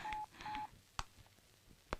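A telephone is dialed: two sustained keypad tones come first, followed by a few sharp, sparse button clicks, close and fairly quiet.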